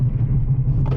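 A Toyota hot hatch brakes hard from 45 mph, giving a low, rumbling road and drivetrain drone inside the cabin that ends in a brief clattering jolt.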